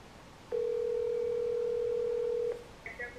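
A single steady telephone ringback tone in The Sims 4 sounds for about two seconds over quiet background hiss, followed by a faint brief chirp.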